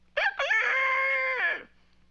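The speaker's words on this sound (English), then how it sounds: "Fifi sounds like a rooster." A rooster crows once, close and loud: a short opening note followed by a long drawn-out call that trails off, in a cartoon.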